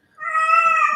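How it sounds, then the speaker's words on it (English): A house cat lets out a single loud, drawn-out meow that rises in and holds close to the listener for most of a second. "that's my cat"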